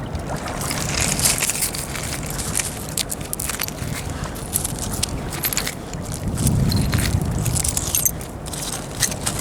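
Copper nails are picked up by hand from the Thames foreshore while mudlarking, with scattered close metallic clinks and gritty scraping over quiet outdoor background.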